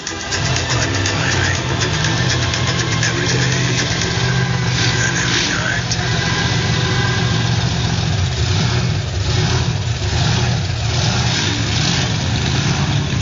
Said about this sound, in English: They're going to start the engines.